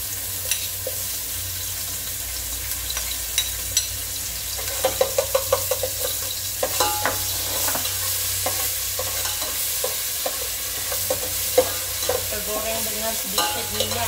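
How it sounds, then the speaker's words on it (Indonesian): Steady sizzling of crushed onions frying in a little oil in a pan, with scattered clinks and stirring scrapes throughout; no voices. "Sekarang kita akan tumis bawang tumbuk tadi ya guys"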